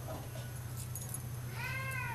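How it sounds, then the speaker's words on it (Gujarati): A house cat in a village home lets out one clear meow near the end, rising over a steady low hum and faint background noise. "મ્યાઉ મ્યાઉ મ્યાઉ કરે"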